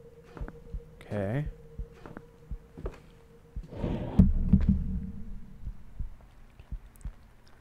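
A low, throbbing heartbeat thuds steadily through a horror video game, soft and repetitive under a swelling drone and scattered game noises, with someone speaking briefly over it.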